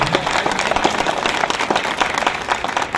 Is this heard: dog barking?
no